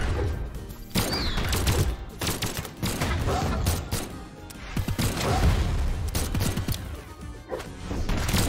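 Brawlhalla video game combat with a bomb exploding: dense, loud crashes, thuds and bursts pile up over constant game music and effects. Players talk over the chaos.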